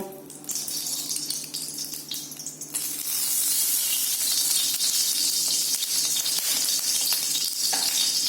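Vermicelli frying in ghee in a pan for sheer khurma, giving a steady, close sizzle that grows louder and denser after a few seconds and then holds, with no talking.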